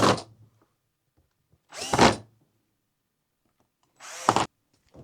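A power drill tightens screws on a Bissell Powerforce Helix vacuum in three short, close, whirring bursts, each ending abruptly, separated by near silence.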